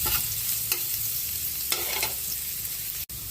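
Garlic sautéing in a pan for sinigang hisses in a steady, close sizzle, with a few stir scrapes at intervals and a brief cut near the end; no speech.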